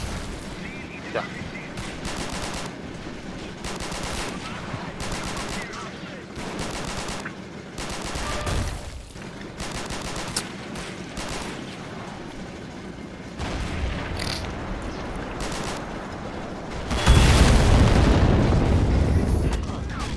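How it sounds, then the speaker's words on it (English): Rapid bursts of gunfire and heavy artillery booms from a Men of War: Assault Squad 2 battle, continuous and dense, swelling into a louder explosive roar near the end, with voices underneath. "He's shooting at your Achilles with your artillery, Brigham."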